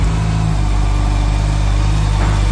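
A motorcycle engine idles close by, a loud, steady, even low thrum without any change in pace and without talk over it.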